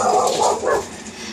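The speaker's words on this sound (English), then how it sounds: "You can hear my dogs in the garage." Dogs shut in a garage barking and yipping in a short muffled burst, moderately loud but dulled as if heard through walls.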